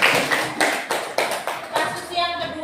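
A small classroom group gives short, scattered applause for a student, the claps coming in loose bursts at close range over a few seconds.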